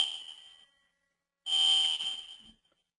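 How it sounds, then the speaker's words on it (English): A fire alarm goes off indoors with shrill, piercing electronic tones: one burst fading out at the start, then after a pause a second loud blast lasting about a second. "the fire alarm just went off"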